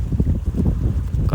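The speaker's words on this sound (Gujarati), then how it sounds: "ત્યાં બહુ ભારે પવન છે" Strong stormy wind sweeps across an anchored fishing boat at sea, a loud, continuous low roar and buffeting on the microphone that holds steady throughout with no voices.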